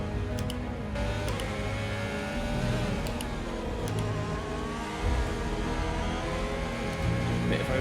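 A Formula 1 car from the F1 2020 game laps Bahrain, its engine holding a steady high whine with shifting harmonic pitch, continuous and fairly quiet throughout.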